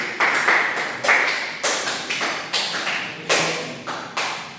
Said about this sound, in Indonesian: Kita kasih tepuk tangan buat 1